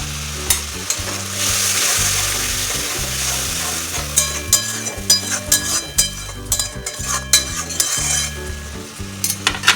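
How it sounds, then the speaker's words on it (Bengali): Spice paste for a Bengali cabbage kofta curry sizzles loudly in a pan after water is added, with steady frying hiss broken by repeated stirring scrapes and occasional clinks of a spoon against the pan. "জল দিয়ে মশলাটা আবারও ভালোভাবে কষাবো।"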